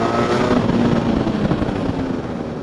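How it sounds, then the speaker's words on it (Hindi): A Benelli motorcycle rides along a highway, its engine and exhaust giving off a steady, loud rumbling drone mixed with wind noise the whole time. "बेनेली वैसे भी अपने एग्जॉस्ट नोट के लिए बहुत फेमस है।"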